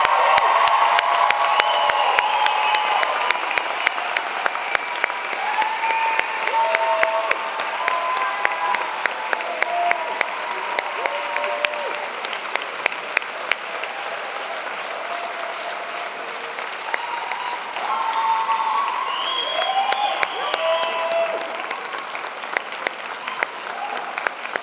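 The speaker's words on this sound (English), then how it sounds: "Graduates, a round of applause." Graduates at a spring convocation ceremony applaud with scattered cheers and whoops, a long sustained wash of clapping from a large crowd that swells and eases over about twenty-five seconds.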